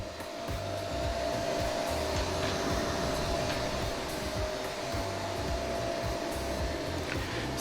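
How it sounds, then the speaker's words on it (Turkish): Cooling fans on a 6000W pure sine inverter, powered from a 200Ah LiFePO4 battery drawing about 145 amps, give off a steady whooshing hum with a faint tonal whine, constant and fairly close, with no voices. "Tabii ki fanlar da şöyle sesini duyun sizde."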